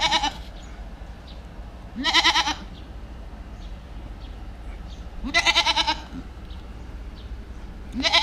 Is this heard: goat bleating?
yes